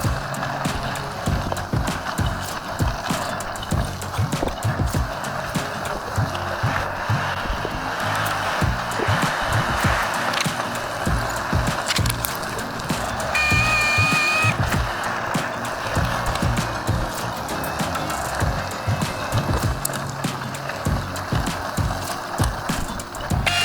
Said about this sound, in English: I'm just going to bore out the middle of this with a Dremel